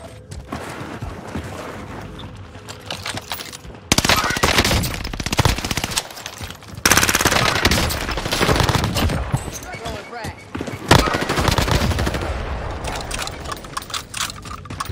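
Rapid video-game gunfire and machine-gun bursts crackle loudly and almost continuously through a multiplayer shooter match, with a heavy barrage surging in around the middle and players talking over it.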